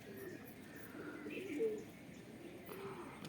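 Domestic desi pigeons coo softly outdoors, a faint low cooing phrase rising once in the middle over quiet ambient background.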